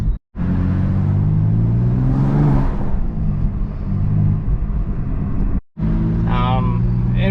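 A manual BMW F80 M3 engine drones loudly under load, then a quick throttle blip rises and falls between gear changes, with short drops in sound at each shift while a driver talks over it.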